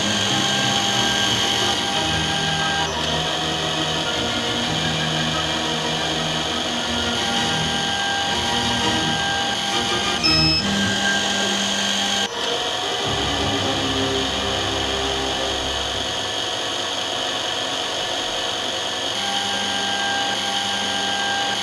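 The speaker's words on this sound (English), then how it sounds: "Press the confirmation button till all the holes that angle to the right are drilled." A Canton CT5412 3D lens drilling machine bores holes in eyeglass lenses, giving a continuous high-pitched whine with shifting motor tones and brief changes in pitch as the drill head moves.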